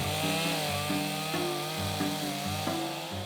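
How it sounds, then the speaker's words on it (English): A smaller chainsaw with a thin tip carves detail into wood for a bespoke drinks cabinet, its engine droning loud and steady with pitch rising and falling as it bites and revs. "I've switched to my smaller chainsaw,"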